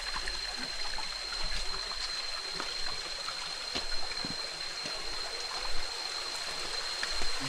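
Spring water flows at its source in Barangay Burgos, Viga, Catanduanes, a steady, soft rushing and trickling stream with occasional small splashes, heard close and alone.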